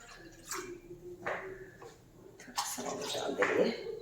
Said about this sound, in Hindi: पानी डाल देती हूँ मैं इसमें कढ़ाई में,